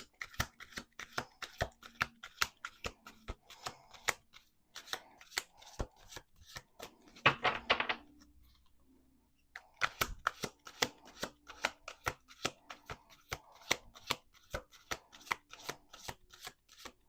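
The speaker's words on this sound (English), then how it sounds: "Let's do 2 more shuffles." Cards are riffled and bridged in sharp, rapid flurries of snapping clicks, with a short pause partway through before the shuffling resumes, close and clear.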